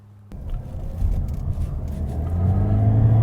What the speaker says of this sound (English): let's put the pedal to the metal here with this Corolla hybrid.